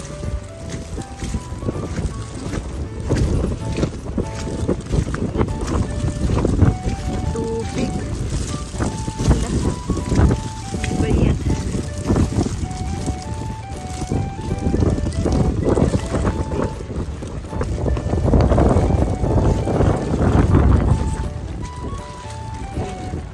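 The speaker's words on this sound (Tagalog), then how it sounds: "Lakas pa ng hangin." Strong wind during snowfall in Japan roars continuously across the microphone, with faint background tones and bumps, building louder toward the end.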